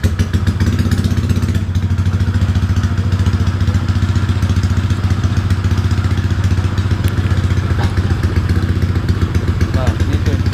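A Honda Vario 177cc scooter engine with a damaged, worn-out condition runs steadily up close, its loud, even idle clattering and thumping without a pause.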